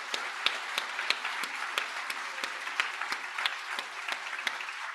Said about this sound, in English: So let's just give public libraries a big round of applause.